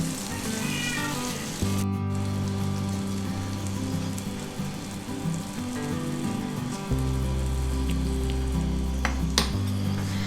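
Besan roti batter, spread with a spoon in a pan greased with desi ghee, sizzles and crackles steadily throughout, close and fairly loud, with a low steady hum underneath and no voices.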